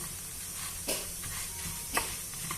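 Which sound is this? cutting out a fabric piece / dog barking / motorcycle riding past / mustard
mustard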